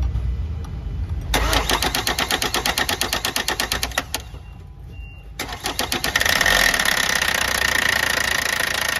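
A 2013 Hyundai Starex van engine, just repaired after a valve lifter fault, runs steadily with a rapid, even mechanical ticking, loud and close, then settles into a fuller, smoother hum.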